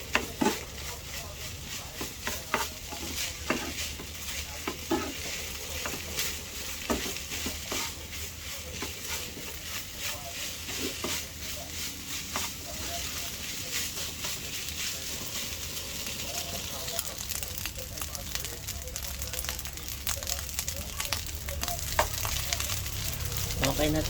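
Fried rice stir-fried in a pan, a continuous sizzle with rapid clattering scrapes and taps of a utensil against the pan throughout, close by and fairly quiet, with no talking.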